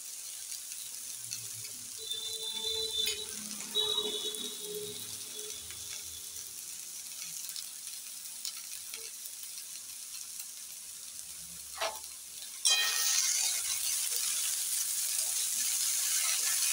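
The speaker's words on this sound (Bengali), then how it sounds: "হালকা ভাজা হয়ে গেছে, এবার শাকটা দেব।" Kulekhara greens hiss and crackle in a hot pan under steady stirring, with scattered utensil taps, then a louder burst of sizzling near the end.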